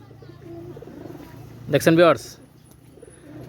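Purebred pigeons cooing, a brief burst of soft throaty calls from close by, under someone talking.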